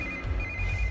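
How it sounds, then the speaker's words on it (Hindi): A phone rings in a Hindi-dubbed South Indian action movie, a steady electronic ringtone tone sustained over a low rumbling background, close and clear, with no talking. "इस वक्त दीदी का फोन।"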